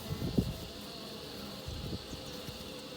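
Honey bees hum in an opened hive during an inspection, a low, steady buzzing drone with faint rustles, soft and close, with no talk over it.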